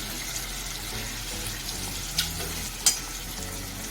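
Onions frying slowly in a pan on low-to-medium heat, a steady soft sizzle with a couple of brief louder crackles, close up and without talk.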